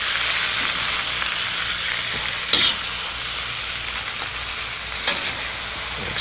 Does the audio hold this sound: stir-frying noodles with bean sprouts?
yes